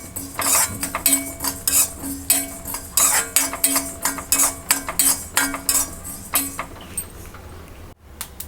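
Rapid rhythmic clinking and scraping of a spatula in a pan as coriander, cumin and fennel seeds dry roast, steady repeated strokes close up that stop near the end.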